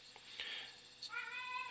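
A domestic cat meows in the background of a quiet room, one drawn-out cry near the end after a couple of faint shorter sounds, heard alone at low volume.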